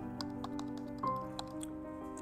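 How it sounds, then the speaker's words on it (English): Keyboard typing into a Keynote text box on a computer: soft, scattered clicks sitting under steady background music, fairly quiet throughout. "Now double click inside the text box and start typing."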